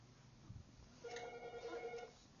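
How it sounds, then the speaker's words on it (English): A telephone rings with a short run of bright electronic tones, in a room where children have been drawing. The ring is fairly clear but brief, after a quiet lead-in with low background noise. "I hear the phone."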